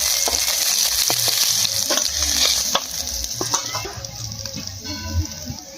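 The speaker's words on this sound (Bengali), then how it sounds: "মাছগুলো একে একে করে ভেজে নেবো" Fish frying in hot oil in a wok, a steady sizzle with intermittent clicks and stirring taps, and faint clucking from chickens in the background.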